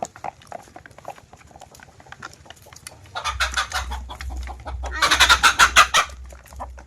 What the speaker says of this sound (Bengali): এই যে মুরগিগুলো কিন্তু সব বেরিয়ে গেছে।